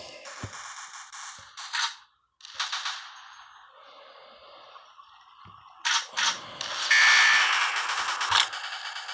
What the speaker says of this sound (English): Look how many shots I'm giving him.